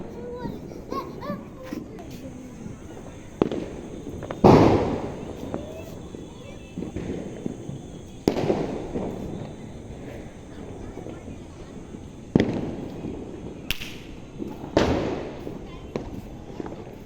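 Firecrackers and fireworks burst during Diwali celebrations, sharp loud cracks at irregular intervals, some near and some farther off, with children and adults talking and calling out in between.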